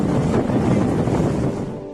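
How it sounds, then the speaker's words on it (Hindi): Patalpani waterfall in Madhya Pradesh, falling from about 300 feet, a loud, dense, continuous rushing roar of water, steady and close, with no voices. "ये झरना करीब 300 फीट की ऊंचाई से गिरता है।"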